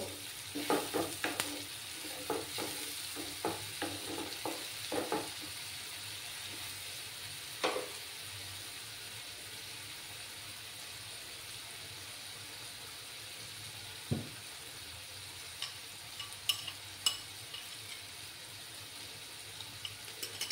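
Spice paste for tangra fish curry fries quietly in a pan, with a cluster of quick stirring scrapes early on, then a low steady sizzle with occasional spoon clicks.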